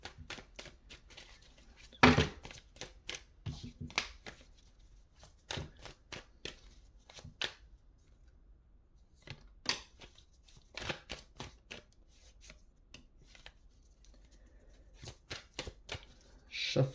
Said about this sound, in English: Shuffling, going hard.